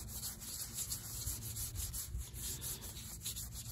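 A hand rubbing oil into a Bolens lawn mower's foam air filter, a continuous soft close rubbing and squishing with steady low-level texture throughout.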